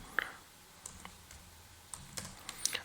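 Typing commands on a computer keyboard, a sparse run of close, sharp key clicks at irregular intervals in a quiet room.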